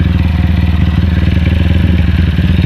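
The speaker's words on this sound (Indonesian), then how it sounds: "Mesinnya sedikit berisik, nanti kita setel lagi ketengnya dan klepnya." Loud, close idling of a modified motorcycle engine with a stroked and bored-up cylinder, a cheap Purbalingga exhaust and a noisy cam chain and valves, running with a rapid, rough, throbbing pulse and a slightly clattery mechanical texture.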